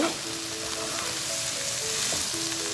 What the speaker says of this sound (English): I'm going to put it on high fire just to get it a little more dry